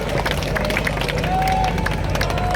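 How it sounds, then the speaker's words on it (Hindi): Crowd at a Lok Sabha election rally in Kurali, Punjab, with a defence minister speaking, claps steadily in a dense continuous wash of applause and crowd noise. A faint tone also runs through it. "यदि एक बार सभी लोग हाथ उठाकर तालियां बजा दीजिए"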